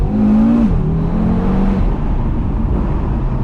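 A 2020 Audi RS3 engine held loud and close at the rev limiter while driving, a steady droning tone that dips briefly then holds flat, with road and wind roar underneath.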